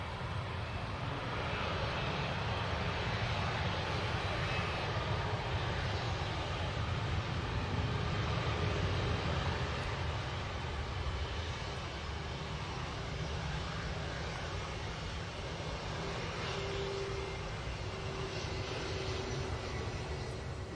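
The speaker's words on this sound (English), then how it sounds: "Seems to be an all-white Airbus." An all-white Airbus airliner passes at Manchester Airport, its broadband engine roar holding steady and loud for the whole stretch with no voices over it.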